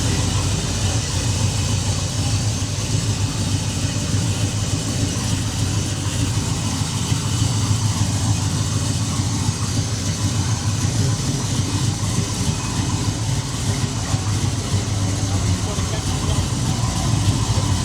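A car engine idles steadily at moderate volume, a continuous low rumble with some background hiss and no clear changes.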